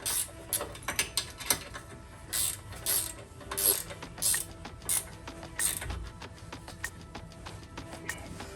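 Ratchet wrench clicking in short bursts while tightening lug nuts on a lifted Subaru, the close, crisp pawl clicks coming in repeated rhythmic runs with brief pauses between strokes.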